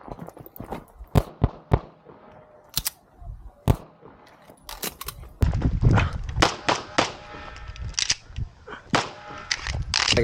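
An Atlas Athena handgun with a 4.6-inch barrel fires a string of loud, sharp pistol shots, spaced irregularly at first and then coming faster and denser, each crack ringing briefly.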